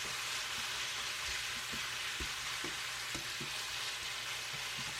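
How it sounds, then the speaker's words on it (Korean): Thin-sliced pork belly and carrot stir-fry in olive oil with chopped green onion, a constant soft sizzle broken by irregular scraping and clacking of a utensil in the pan, with no voices. "올리브유 1숟가락, 대파 2숟가락, 그리고 대패 삼겹살 500g을 넣고 골고루 볶아줍니다. 당근도 넣고 볶아주세요."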